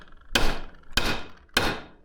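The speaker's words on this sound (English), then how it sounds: "they got mangled in the process, so I'll just have to straighten them out with a" A hammer strikes bent metal bicycle rack rods to straighten them during a 90s mountain bike rebuild: three sharp, close metallic blows about half a second apart, each ringing briefly before fading.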